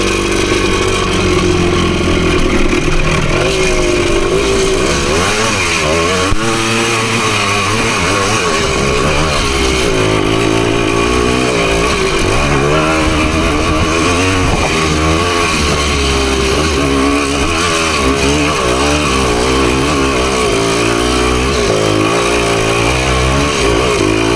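A PE250 dirt bike climbing a trail in first gear, its engine loud and close, revving continuously with rising and falling pitch for the whole stretch.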